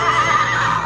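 A toy horse gives one close, loud electronic neigh, a short wavering whinny that cuts off abruptly.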